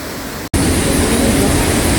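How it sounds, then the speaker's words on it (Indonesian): Small fast-flowing stretch of the Kali Brantas river near Coban Talun waterfall in Batu, East Java, rushing as a steady loud broadband roar that cuts out for a split second and then continues unbroken. "ada sungai kecil ngalir deres"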